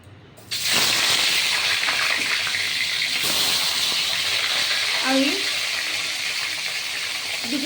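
Small carp-type fish drop into a smoking-hot wok of oil and burst into a loud, steady sizzle that starts abruptly and holds strong and close throughout.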